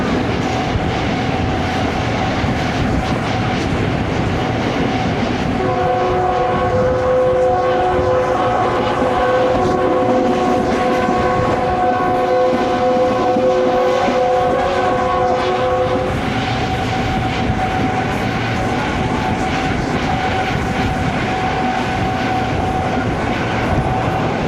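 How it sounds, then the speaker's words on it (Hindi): The 2 Down Khyber Mail passenger train rumbles past near Kassowal, its horn sounding in long sustained tones over continuous loud rail noise and wheel clatter. "ये थी 2 डाउन खैबर मेल"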